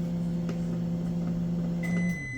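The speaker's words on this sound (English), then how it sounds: "Our microwave's done." A microwave oven hums steadily while running, then a single high electronic beep sounds near the end as it finishes and the hum drops away.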